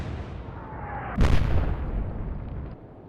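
Naval guns firing shells in the WWII sea battle game Atlantic Fleet, a single heavy boom that punches in midway and rolls off into a lingering rumble over low ambient noise.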